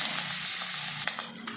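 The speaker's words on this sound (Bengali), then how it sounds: "মাছটাকে ভেজে নেব" Fish sizzling in hot oil in a kadai for a Bengali fish curry, a continuous loud frying hiss that shifts sharply partway through as pieces are stirred or moved.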